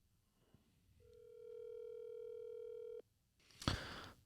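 A telephone plays the steady tone of a disconnected number, a clean held note that lasts about two seconds and then cuts off. A short burst of noise follows.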